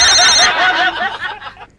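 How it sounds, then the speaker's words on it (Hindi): A telephone bell rings loudly for about half a second in an indoor family scene from a Hindi comedy serial, then the ring trails off under a faint snicker. "जा फोन उठा।"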